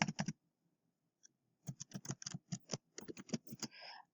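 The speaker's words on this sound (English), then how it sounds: "as I'm typing" Quick bursts of clicky keyboard typing, close and crisp, with a brief pause near the start before steady tapping resumes.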